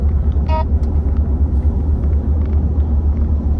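A 2020 Ford F150 with the 3.5L EcoBoost engine driving under a heavy load, a loud, steady low rumble heard from inside the cab, with a faint brief tone near the start.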